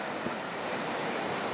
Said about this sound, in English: river stream